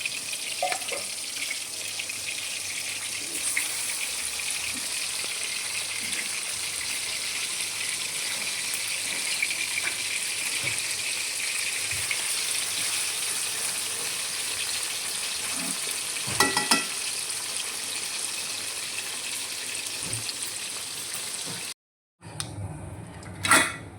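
Loud, continuous sizzling and crackling of small chicken pieces frying in oil, steady for a long stretch before it cuts off briefly near the end.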